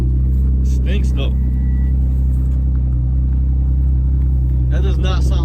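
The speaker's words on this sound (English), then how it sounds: "That does not sound like a stock exhaust." A 2008 Audi A5 bought at salvage auction idles with a non-stock exhaust, a loud steady low rumble running throughout while people talk briefly over it at the start and end.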